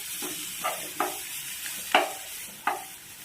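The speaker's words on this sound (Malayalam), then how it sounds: "ഇനി നമുക്ക് അതിലേക്ക് പഞ്ചസാര ഇടാം. നന്നായി നമുക്കൊന്ന് ഇളക്കിയെടുക്കാം." A spoon stirs sugar into tea water in a pot, producing four or five distinct scraping clinks spaced about half a second apart over a soft steady background hiss.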